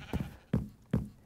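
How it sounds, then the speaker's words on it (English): Black sheep in Minecraft bleating, four short, close bleats in quick succession with brief gaps between them. "there are a good number of black sheep out in this area"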